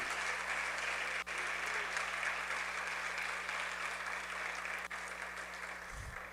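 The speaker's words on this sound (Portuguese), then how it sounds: "Você pode aplaudir a Jesus e glorificar a Ele" A church congregation applauds during a sermon, a steady, fairly distant wash of clapping held at even level, with a low electrical hum beneath and a brief thump near the end.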